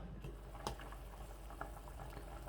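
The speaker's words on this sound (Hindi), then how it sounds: "पानी जो है आप देख सकते हैं खूब उबल रहा है।" Water boiling hard in a cooking pot on the stove, ready for rice; a steady bubbling, hissing roil carries on without a break, with a few louder pops and splashes standing out.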